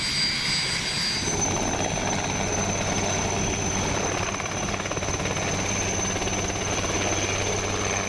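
Indian Air Force helicopter heard up close with a steady, loud rotor and engine drone, a continuous thrumming roar with a high turbine whine running throughout.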